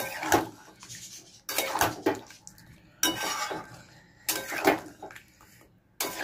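Chicken for chicken kasha being worked in a pot, with four bursts of metallic scraping and clattering of a spoon against the pot separated by quieter pauses, close and moderately loud.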